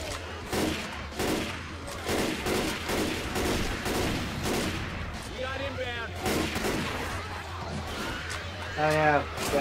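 Gunfire in the co-op zombie shooter Left 4 Dead 2: a rapid series of loud shots repeating steadily, mixed with excited voices talking over the action.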